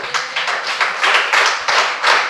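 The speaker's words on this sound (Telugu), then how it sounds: "చప్పట్లు కొడదామా?" A church congregation at a Christmas sermon claps loudly, dense rhythmic clapping close by with a slight pulse, and no speech over it.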